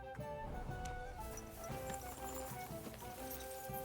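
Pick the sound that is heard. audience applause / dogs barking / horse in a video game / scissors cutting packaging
horse in a video game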